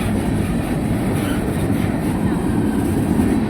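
A four-engine CSX coal train passing the Silver Street crossing in Marion, Ohio, a loud steady rumble of wheels and cars rolling by close to the listener.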